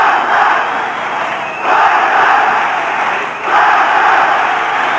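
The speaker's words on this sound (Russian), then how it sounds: "Ну вот сейчас, наверное, все 20 тысяч скандируют. Спартак, Спартак." About twenty thousand football supporters in a Moscow stadium chant "Spartak" during a Lokomotiv–Spartak Russian league match. The chant comes in loud rhythmic surges roughly every two seconds over a constant wash of crowd noise.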